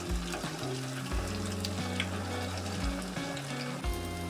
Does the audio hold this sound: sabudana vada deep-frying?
yes